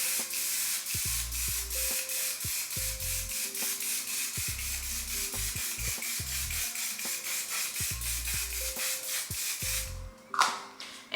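Rapid, rhythmic hissing pulses repeat steadily, like a fine mist pumped from a One Size setting spray bottle onto a face. They run for about ten seconds, close and fairly loud, then stop with a soft handling thump.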